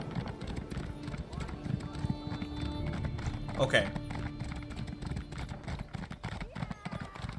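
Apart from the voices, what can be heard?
horse hooves clip-clop while riding, Elder Scrolls Online video game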